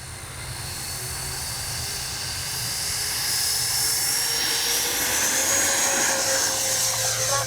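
An aircraft engine roars steadily at takeoff power with takeoff flaps set, a loud, constant drone with a whining tone that rises slightly in pitch and grows a little louder over the run.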